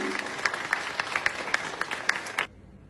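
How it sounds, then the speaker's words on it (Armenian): Applause from an awards ceremony audience, a steady patter of many hands clapping at moderate distance for about two and a half seconds before cutting off abruptly. "Ծափահարենք մեր Նաիրա Ասիրյանին։"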